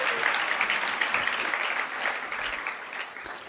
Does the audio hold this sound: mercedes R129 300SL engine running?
no